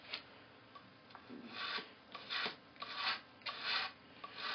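Foam board model table legs trimmed with a small cutting tool: a series of short, close rasping scrapes in irregular bursts with brief pauses between, fairly quiet and without talk.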